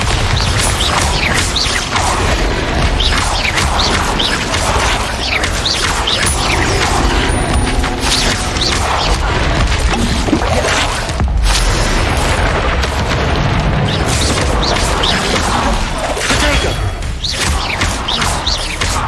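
Confringo and Bombarda blasting spells in Hogwarts Legacy set off a dense, continuous barrage of loud booms, crashes and rumbling debris that barely lets up.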